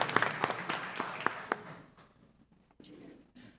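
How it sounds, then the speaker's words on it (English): Applause from the audience at a school board meeting, a brief round of scattered hand claps that fades out into quiet murmuring. "A big round of applause."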